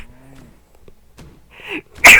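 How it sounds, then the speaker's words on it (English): A person sneezes once, a sharp loud burst preceded by a brief quick inhale, over a quiet background with faint game sounds. "Sorry, I had to sneeze."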